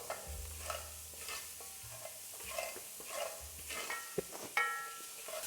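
Chopped onions for smothered pork chops sizzle quietly in a pan while a utensil scrapes and knocks through a few slow stirring strokes, faint and close, with no voices.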